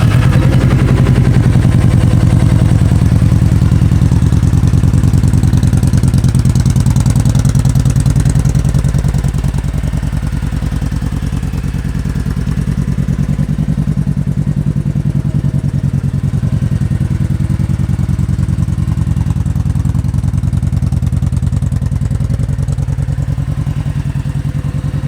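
A 2013 Kawasaki Vulcan Vaquero motorcycle fitted with Vance & Hines pipes idles with a deep, loud, throbbing rumble that pulses rapidly and holds steady throughout.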